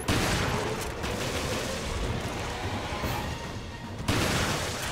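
Dense gunfire rattles in the video game Resident Evil: Revelations, a continuous loud barrage of rapid shots with no pauses.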